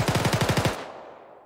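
A .50 caliber machine gun in the video game ArmA 3 fires a rapid burst of about eight heavy, evenly spaced shots lasting under a second, then a short echoing tail fades away.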